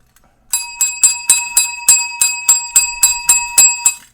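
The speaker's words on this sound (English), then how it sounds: "Do the ding dong noise." A bright electronic bell notification chimes about a dozen times in a steady, even rhythm, each ding clear and close with a ringing tone, starting after a short silence and playing alone.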